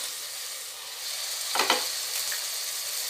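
Ambur chicken biryani masala with tomato and mint added sizzles steadily in a hot pan, with a short scrape of stirring partway through; nobody speaks.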